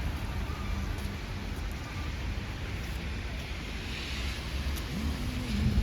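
Steady rain falling outdoors in Syktyvkar, Komi Republic, a continuous even hiss with low rumble and some wind-like buffeting, holding at moderate level throughout with a faint tonal drone near the end.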